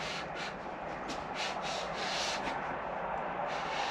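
Ford 302 V8 bottom end with freshly torqued rod bolts being turned over by hand, giving a steady, close rubbing and scraping drone that stays even throughout with no voices.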